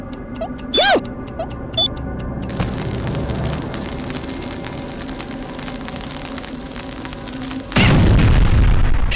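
A deep, rumbling boom bursts in near the end, loud and sudden over steady electronic game sounds and a few short blips, in Worms 2: Armageddon.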